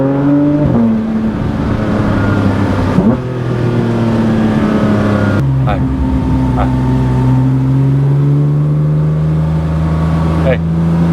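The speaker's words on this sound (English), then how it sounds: "this car does have a titanium exhaust on it from Boost Logic" Porsche 992 GT3 RS with a Boost Logic titanium catback exhaust drones steadily up close while cruising, its pitch stepping and sliding through gear changes, with a voice talking over it.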